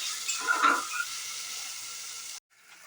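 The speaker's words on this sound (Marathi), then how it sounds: "कांदा फ्राय झाल्यानंतर हा एक मोठा टोमॅटो घालायचा आहे आणि तोही चांगला फ्राय करून घ्यायचा आहे" Chopped onion and tomato fry in a pan for a pulao, a steady soft sizzle and hiss with a brief louder crackle near the start before it cuts off abruptly.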